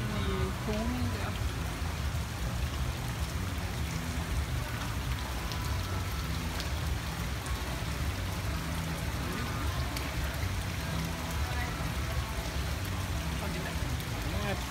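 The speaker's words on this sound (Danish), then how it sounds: "Det regner helvede til." Heavy rain pours into an outdoor pool at night in Siem Reap, a loud, continuous hiss and patter of drops on water that never lets up, with people talking faintly underneath.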